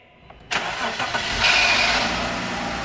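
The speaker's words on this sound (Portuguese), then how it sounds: "E o menino chinês vai dar a partida na Cherokee." A jump-started Jeep Cherokee V6 cranks and fires at about half a second, then settles into a loud, steady idle close to the microphone. The engine has oil contaminating the radiator water.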